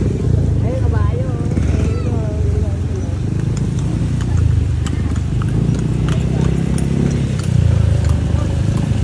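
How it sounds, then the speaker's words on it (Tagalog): Horse hooves clip-clop along a busy street with engine noise and people talking nearby. "Ayun, kabayo."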